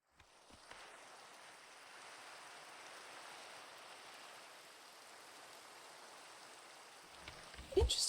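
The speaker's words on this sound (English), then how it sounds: "Interesting that you spawn while it's raining." Rain falling in Minecraft, a soft, steady hiss of drops that fades in and holds evenly throughout, faint and distant, with a brief louder bump near the end.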